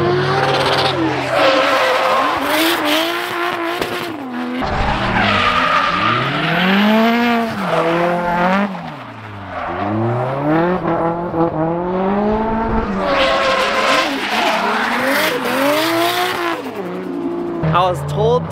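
An SR-powered drift car's engine howls and revs hard with long tire squeals and skidding at a circuit in Japan, loud and close, while people talk in the background.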